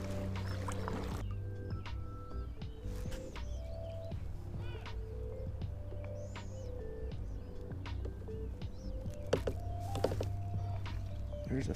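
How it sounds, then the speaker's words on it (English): A small boat being paddled across a lake, with soft water swishes and knocks under nearby birdsong and occasional cooing, steady and fairly quiet outdoors. "We'll just kind of paddle through, see if we can mark anything"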